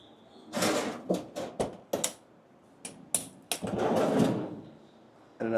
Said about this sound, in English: And another freezer drawer.